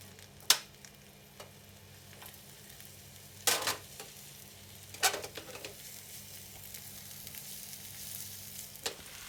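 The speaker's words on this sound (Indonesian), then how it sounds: "Tumis bumbunya sampai matang" Spice paste sautés in leftover oil in a pan for shrimp sambal, giving a faint, steady sizzle broken by a few sharp scraping stirs.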